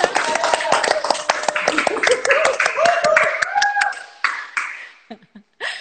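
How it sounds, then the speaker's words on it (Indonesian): A group of family members clapping hands together in a studio talk show, rapid scattered claps with laughter and chatter mixed in, fading out near the end. "Tepuk tangan lu, tepuk tangan lu."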